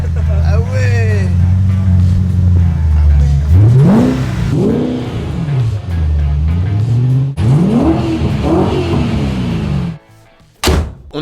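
A homemade Ford GT40 replica drives off with its engine revving hard through several rising and falling pulls, loud and close, with a thunk near the end as the run cuts out.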